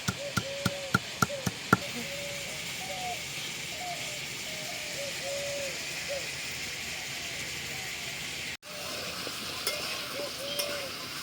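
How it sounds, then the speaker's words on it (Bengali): Pumpkin pieces fry in a pan for a vegetarian dish, giving a quiet, steady sizzle. A few sharp utensil taps come early, and faint voice-like tones drift underneath. "কুমড়োটা ভালো করে ভেজে নিয়েছি"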